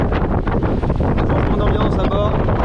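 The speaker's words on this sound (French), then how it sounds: "le vent s'est levé à 15 nœuds de vent à peu près" Steady strong wind roars over a sailboat in about 15 knots of breeze while close-hauled on a transatlantic passage toward Bermuda, with rushing water and hull noise underneath, dense and continuous throughout.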